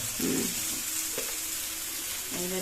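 Potato and bottle gourd pieces fry in a pan with a steady, moderately loud sizzle, and a few brief clinks and scrapes of stirring sound over it.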